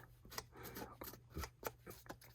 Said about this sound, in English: just rough up the edges with a pair of scissors